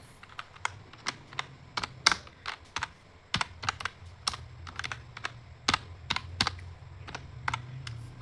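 Fingers type on a computer keyboard in quick, uneven bursts of crisp key clicks, close and fairly quiet, with short pauses between runs and no voices.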